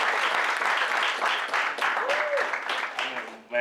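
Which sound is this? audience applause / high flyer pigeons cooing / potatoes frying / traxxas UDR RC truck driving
audience applause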